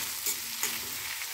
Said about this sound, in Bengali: এই হাফ সেকেন্ড মতন একটু নাড়াচাড়া করে নিয়ে এই যেগুলো একসঙ্গে হয়ে আছে সেগুলোকে একটু ভেঙে নিব।